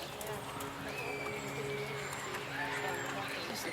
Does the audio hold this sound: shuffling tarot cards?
no